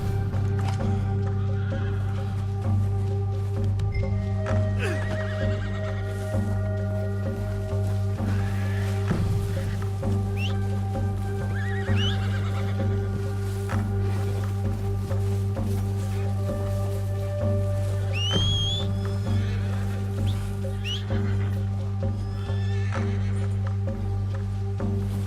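Horse whinnying and snorting in the video game Red Dead Redemption 2, several short neighs over a steady low hum of game ambience.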